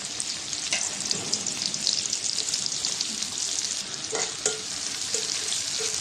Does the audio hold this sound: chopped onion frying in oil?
yes